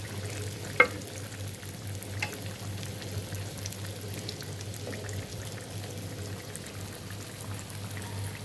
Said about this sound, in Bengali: পটল ভাজা চলছে এখনো